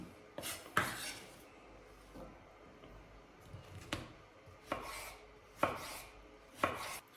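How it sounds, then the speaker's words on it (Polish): A knife cuts through half a red bell pepper on a board, giving a few sharp, close chopping knocks spread irregularly over quiet background, with no talking. "Teraz kroję pół papryki."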